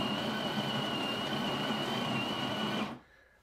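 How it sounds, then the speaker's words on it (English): A Tchibo home espresso machine pre-infuses hot water into about 13 grams of coffee grounds, giving a steady, even pumping hum with a faint high whine that runs for about three seconds, then cuts off abruptly. "That little sound you heard right there, that was putting hot water into the grounds."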